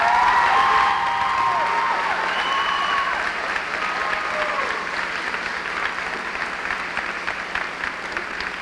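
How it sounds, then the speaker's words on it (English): A high school commencement audience gives award recipients a round of applause, the broad clapping from a large crowd filling the hall and then slowly thinning and fading toward the end. "Please give these people a round of applause"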